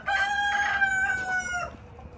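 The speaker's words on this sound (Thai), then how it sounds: "ไก่" A rooster on a farm gives one loud, close cock-a-doodle-doo crow of under two seconds, with faint clucking from other chickens around it.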